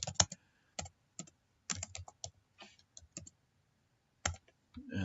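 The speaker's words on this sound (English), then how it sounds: "then you just start typing whatever descriptions you have in here" Quiet, irregular bursts of keystrokes on a computer keyboard, clicking in short clusters separated by pauses, close and alone without talk.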